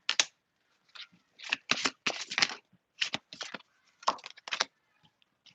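Tarot cards are shuffled in quick bursts of crisp riffling and snapping, separated by short pauses, close and fairly quiet.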